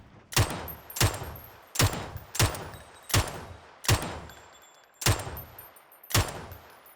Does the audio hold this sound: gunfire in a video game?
yes